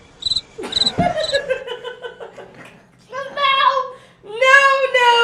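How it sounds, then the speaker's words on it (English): Crickets chirping in short bright bursts, several quick trills at the start followed by longer rhythmic chirping stretches, with a voice and some laughter-like sounds mixed in. "Make sure you bring the crickets in on this."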